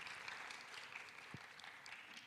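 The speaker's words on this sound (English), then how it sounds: "so clap for every one of us" A workshop audience breaks into applause, soft and distant steady clapping from a crowd with no speech over it.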